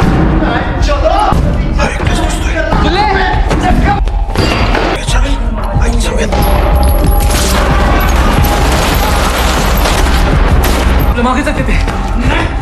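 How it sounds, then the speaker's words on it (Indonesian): A film shootout scene fills the clip with repeated loud gunshots, booms and thuds amid dense, busy action sound that continues throughout, while a narrator speaks over it. "mereka terlibat baku tembak yang membuat kaki Imran terkena timah panas"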